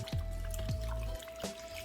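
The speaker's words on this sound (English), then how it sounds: "take your short ribs and pour this over" Pineapple marinade pours over beef short ribs, a faint liquid trickle with a few soft drips and splashes under a steady background hum.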